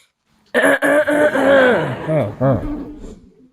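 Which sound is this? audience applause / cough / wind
cough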